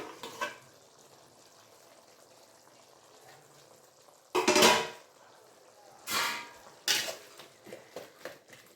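A plate serving as a lid comes off a pan of softened tomatoes with a loud ceramic scrape and clatter, followed by further clinks and knocks of dishware against the pan over faint cooking noise.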